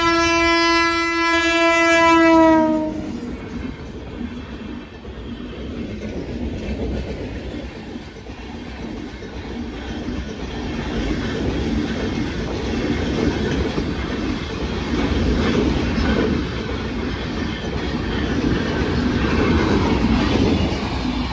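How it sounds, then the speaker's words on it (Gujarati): A passing train sounds a long loud horn blast for about three seconds, then its wagons rumble and clatter steadily past at close range for the rest of the clip. "ટ્રેન ઓલા ટ્રેન આવી"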